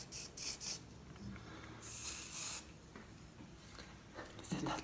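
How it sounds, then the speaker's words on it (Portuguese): Spray bottle spritzing in a quiet ASMR setting, several short hissing bursts close by, then a longer soft spray, with faint background rustle. "Eu vou borrifar um pouquinho."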